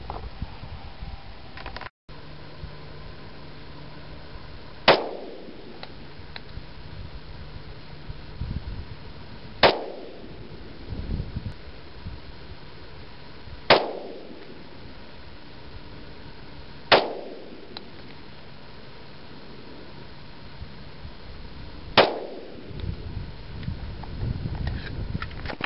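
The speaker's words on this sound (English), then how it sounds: "First, we've got to do the Winchester, 10 millimeters, 175 grain silver tips," Five loud 10mm pistol shots from a Glock 20 firing Winchester 175 grain Silvertip rounds, spaced about four seconds apart, each a sharp crack with a ringing decay over a steady outdoor background.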